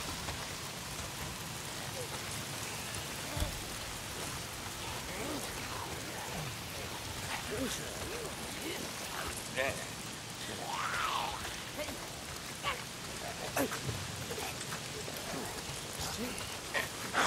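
Rain keeps pouring in the Days Gone game world, a dense, even hiss with scattered drips and patters that continues for the whole stretch.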